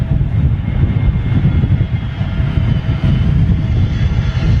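Loud, steady roar of Airbus A320neo jet engines nearby at London Heathrow Airport, a deep continuous rumble with a faint higher whine, no speech.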